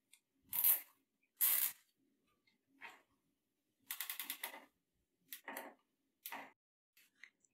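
A cutter snips the excess tails off nylon cable ties during assembly of a ParvoMedics TrueOne 2400 cart. Several sharp, close, crunching clicks come one after another, some in quick rapid-fire groups, separated by near silence.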